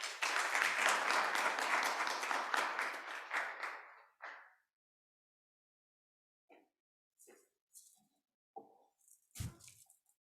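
An audience at a workshop session claps in a burst of applause lasting several seconds, then fades to silence with a few scattered handclaps and small knocks afterward.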